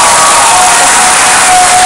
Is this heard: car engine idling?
no